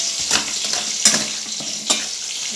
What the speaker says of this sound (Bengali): এখন ওই যে পটলটা ভাজছি